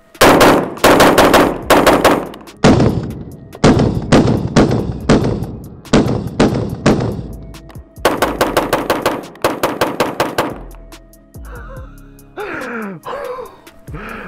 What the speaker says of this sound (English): This is a full magazine out of my AR-15.